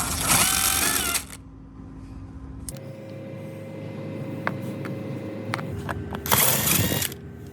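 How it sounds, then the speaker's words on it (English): A 7/32 nutsetter drives out bumper screws on a Ford Edge, giving loud whirring bursts at the start and near the end, with quieter mechanical handling noise and a steady low hum between them. "We use the same 7 divided by 32 NUTSETTER to take out the screws."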